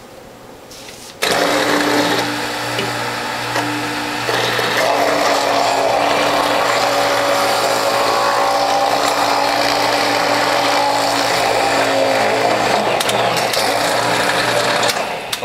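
Small carrots, three or four at a time, pressed through the front-loading feed tube of a juicer, a steady loud whirring motor grind with a constant mechanical hum, starting abruptly and running continuously.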